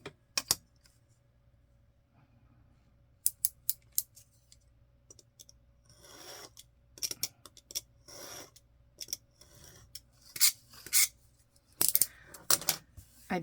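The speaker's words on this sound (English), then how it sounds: "I went very gently with my knife." A craft knife slices gently through paper while opening multi-pocket scrapbook pages, heard as faint, intermittent scratchy cuts and small clicks in a quiet room, the strokes clustering toward the end.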